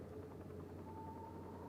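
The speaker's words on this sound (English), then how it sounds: "Why is the helicopter on?" A helicopter idles in the video game Still Wakes the Deep, heard as a faint, steady low engine drone with a thin whine held throughout and no talking.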